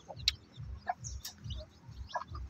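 Three-day-old native chicken chicks peep softly with thin, high chirps scattered at irregular intervals, faint and close, over a low rhythmic thumping background.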